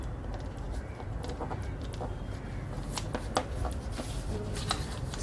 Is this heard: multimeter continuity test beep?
no